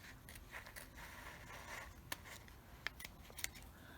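Scissors trim a sheet of sticker paper from a planner sticker book, giving soft, close snips and papery scrapes with a few sharper clicks, quiet throughout.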